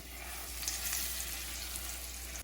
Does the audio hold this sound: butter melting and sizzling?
yes